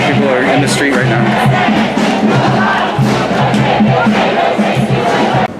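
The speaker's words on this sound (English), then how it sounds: "So it's a very animated crowd. There's like thousands of people here right now." Thousands of street protesters marching up Broadway on Seattle's Capitol Hill, a dense, continuous roar of overlapping voices and shouts that stays loud and close throughout.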